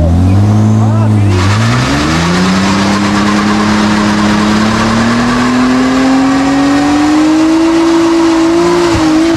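A car engine revs hard and continuously while its tyres are worn out, the pitch climbing steadily over a rough, loud roar with tyre noise; voices talk briefly over it.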